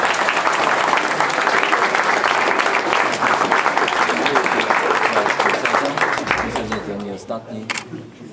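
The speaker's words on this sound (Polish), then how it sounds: "Dużo brawa." Loud, dense applause from a crowd at a kayak sport club season-summary event in Olsztyn, sustained and close, tapering off slightly near the end.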